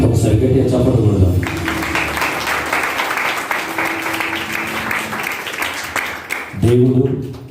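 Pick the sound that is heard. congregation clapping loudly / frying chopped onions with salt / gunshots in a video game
congregation clapping loudly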